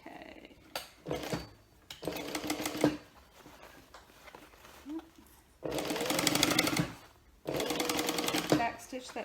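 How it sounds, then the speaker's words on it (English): A sewing machine stitches a seam on a bag in several rapid mechanical bursts, the longest lasting about two seconds, separated by brief pauses and quieter handling noise. "Back stitch that center seam."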